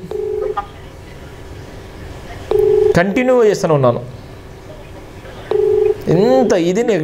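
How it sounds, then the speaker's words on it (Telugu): A phone call rings unanswered, with short ringback tones repeating at regular intervals while someone talks over and between them. "ఆయన కూడా ఫోన్ లిఫ్ట్ చేయట్లేదు"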